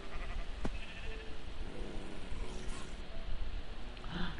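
Sheep bleat faintly in a video game over a dense, steady background of game ambience, with one or two short bleats standing out near the end and no talking.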